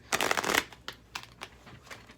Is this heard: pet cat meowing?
no